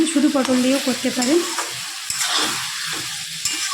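Potato, pointed gourd and egg curry stirred in a pan, with a soft sizzle and scraping under a voice at the start, then continuing quietly on its own.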